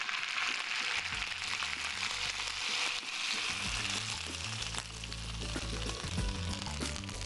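Hot oil tempered with ginger is poured over cooked eggplant, producing a loud, continuous close sizzle and crackle that hisses steadily throughout.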